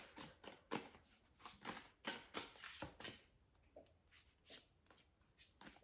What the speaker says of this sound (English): Okay, pulling one more card from this one